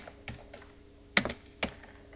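A few sharp, close key presses on a computer keyboard as a command is typed, irregular taps with a quick cluster in the middle, then a final keystroke, over quiet room tone.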